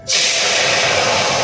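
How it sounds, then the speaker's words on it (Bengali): Dal poured into a hot kadai of oil and turmeric bursts into a loud, continuous sizzle that starts abruptly and holds steady, close up. "কড়াইয়ে ডাল পড়ে গেছে"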